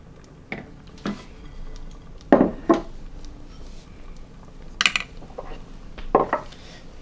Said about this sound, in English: I'm gonna get the chopsticks to take out the noodles.